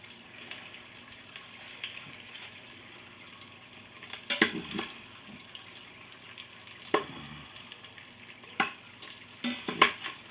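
Great Value bacon fries in an Instant Pot, a soft sizzling bed with sporadic louder pops and crackles, plus a few sharper clatters and splashy bursts near the end.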